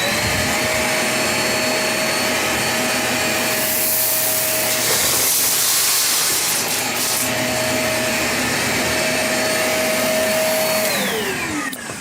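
A Shark Rotator Pet upright vacuum (ZU102) runs with a loud, steady motor whine as it sucks up quinoa and beans from the floor, with brief rattles from the debris and a falling pitch as it powers down at the end.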